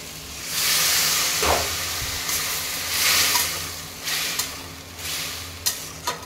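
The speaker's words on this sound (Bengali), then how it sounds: "আলু আর মাশরুমটা কিন্তু আমার কষানো হয়ে গেছে। এবার এর মধ্যে আমি জল দিয়ে দেবো।" Water poured into a hot pan of fried potato and mushroom for a curry, bursts of loud hissing and sizzling that rise and fade in several waves, close and with no talking.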